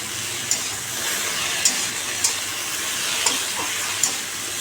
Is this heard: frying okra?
yes